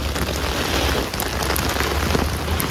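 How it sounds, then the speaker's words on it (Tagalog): Heavy rain pours down in a dense, loud, continuous hiss of drops hitting surfaces close by, steady throughout with no voices. "Grabe ang lakas ng ulan mga kachika,"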